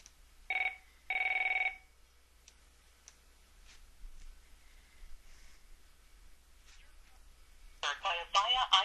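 An Avaya IP Office phone extension ringing unanswered: two short electronic rings near the start, fairly clear, then quiet clicks and low background before a voice speaks at the end.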